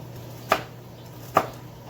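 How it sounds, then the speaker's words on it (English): A knife chops vegetables roughly on a board while cooking jollof rice and Nigerian stews, two sharp, distinct chops about a second apart, close and clear over a quiet kitchen hum. "I'm in a crazy rush, so I'm chopping these like super roughly."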